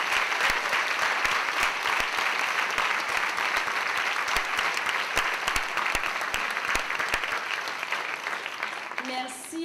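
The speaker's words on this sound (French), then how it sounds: "Je pense que ça mérite une bonne main d'applaudissements." Sustained applause from an audience at a June 2009 end-of-year school show, dense and steady clapping filling the room throughout, with a few sharper individual claps standing out near the end.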